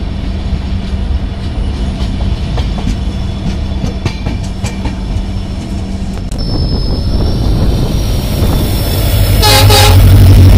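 The Howrah-bound Saraighat Express rumbles past with loud, steady rail clatter and rhythmic clicking wheels, then a sharp horn toot rises near the end.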